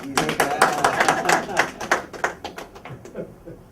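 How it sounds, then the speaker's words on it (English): An audience at an international education conference gives a short round of clapping, with crisp, distinct claps that start strong and gradually thin out and fade, while people talk nearby. "You're not clapping for her."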